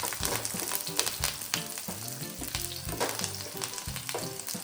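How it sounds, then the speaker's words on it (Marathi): Pea cutlets (matar tikki) shallow frying in oil in a pan over low heat, a busy close sizzle and crackle with soft stirring and scraping throughout, no voices. "हे आपल्याला तळायचे नाही, फक्त फ्राय करायचे आहे."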